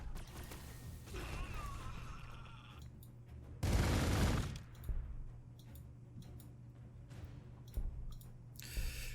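Gunfire in the strategy game Gladius Relics of War comes as one short, harsh volley standing out from a quiet backdrop of soft ticking and mechanical clicks.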